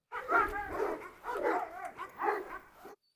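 Several dogs bark excitedly in a forest, three loud bursts of overlapping barks and yips close by, stirred up at the sight of a Cane Corso dog.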